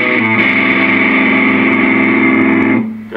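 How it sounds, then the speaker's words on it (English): Electric guitar played through an iPad multi-effects processor app with a distortion amp model, a loud sustained distorted chord ringing for nearly three seconds before cutting off. "got a nice distortion thing going on there"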